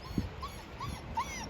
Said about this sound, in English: being a noisy dog.